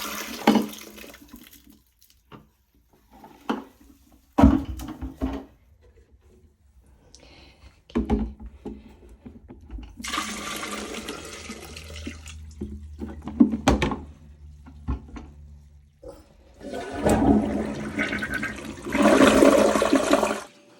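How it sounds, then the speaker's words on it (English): Dirty carpet-cleaner water is flushed away at a dump station, heard as rushing, gurgling water bursts and splashes between quieter drips and pauses, the flow swelling loudly toward the end. "Round 1 of dirty water disposal coming up."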